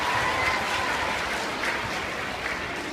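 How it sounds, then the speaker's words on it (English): Sustained applause from a school event crowd cheering contestants, a thick, even roar of clapping holding at a steady loudness throughout, with faint crowd murmur mixed in. "So can we have a huge round of applause for the contestants?"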